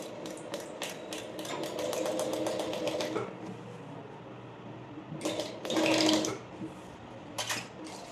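Sewing machine stitching a curved sample in a tailoring practice class runs in quick rhythmic bursts, pausing and restarting, with a louder stretch near the end; no talking.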